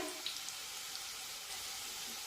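Wheat-flour dough balls (mutke) frying in a pan over a medium flame, giving a steady, soft broadband sizzle with faint bubbling throughout and no talk.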